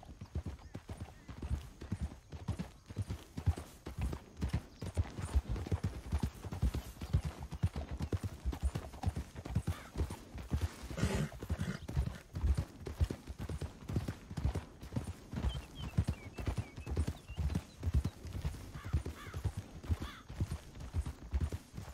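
Horse hooves clip-clop steadily in Red Dead Redemption 2 as a horse is ridden, a brisk continuous rhythm of close hoofbeats with faint ambient sound underneath and no talking.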